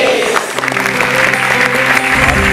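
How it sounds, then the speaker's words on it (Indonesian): Studio audience applauding at an Indonesian motivational talk show, a steady dense wash of clapping with some crowd noise, with tonal hum or music beneath it. "Kita berikan tepuk tangan"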